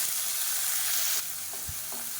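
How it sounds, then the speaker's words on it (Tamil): Tomato with onion and garlic sizzles steadily in a pan. The frying drops a little in loudness midway, and a few soft stirring knocks follow, close by with no speech. "தக்காளி நல்லா வதங்கிருச்சு"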